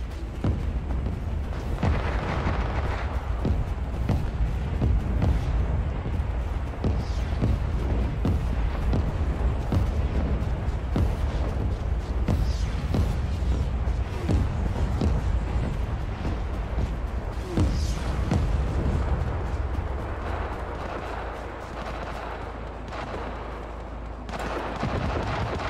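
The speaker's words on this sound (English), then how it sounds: "Our artillery is commencing fire." Artillery fire in a PC war game booms again and again, a dense series of heavy blasts and explosions rolling over a low rumble for a long stretch.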